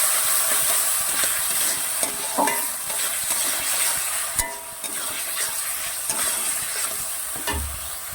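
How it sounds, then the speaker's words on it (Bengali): Drained lentils are stir-fried in spice paste, giving a loud close sizzle with repeated spatula scrapes and stirring knocks throughout. "এখন এই ডালটা মশলার মধ্যে দিয়ে দেব, দিয়ে ভালো করে কষিয়ে নেব।"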